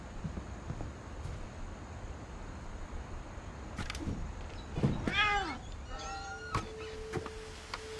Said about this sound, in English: It's the same cat.